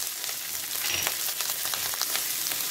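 Ginger garlic paste going into capsicum frying in a pan for paneer chilli, a close, steady sizzle with scattered crackles and a few light stirring scrapes, no voices.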